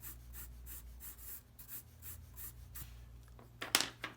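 A white pencil scratches across marker-shaded paper on an ellipsoid drawing, soft rhythmic strokes repeating close up and quiet, ending with a brief sharper scrape.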